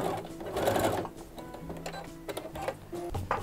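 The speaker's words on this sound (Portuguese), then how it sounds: "Agora eu vou à máquina, vou passar uma costura reta nessa parte." A sewing machine runs a straight seam on fabric for a fabric craft holder, a close, rapid mechanical stitching chatter with brief pauses, alone without talk.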